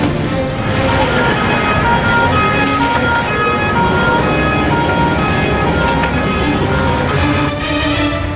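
An ambulance siren wails loudly and continuously as the vehicle leaves a hospital, its rising and falling tone riding over road and engine noise, with no talking.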